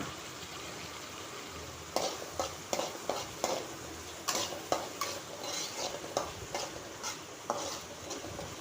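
Onions sautéing in a pan until brown for tomato rice, a steady broad sizzle broken by sharp, irregular scrapes and knocks of a stirring spoon against the pan, close and fairly loud with no talk.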